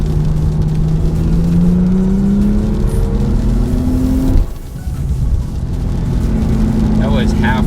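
A 2015 Porsche 911 Turbo S accelerates at half throttle on a wet road, its engine note climbing steadily and loudly, then dropping briefly at a shift before pulling again.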